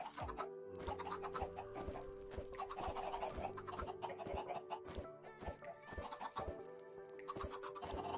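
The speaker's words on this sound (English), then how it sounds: "Chickens. All the chickens." Chickens in the Minecraft video game clucking repeatedly in quick, overlapping bursts, fairly close and busy, with a flock-like chatter throughout and no talking.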